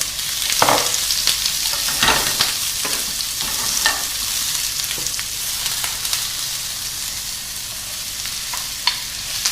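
Onion and chili flakes sizzling in olive oil in a pan, a steady bright frying hiss throughout with occasional clacks and scrapes of stirring, close and loud with no talking.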